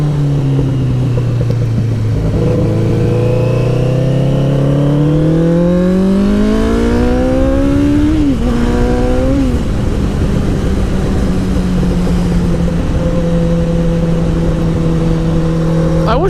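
Motorcycle engine revving up and down in rising and falling sweeps, loud and close, then settling into a steady idle, with only faint hints of small exhaust backfires.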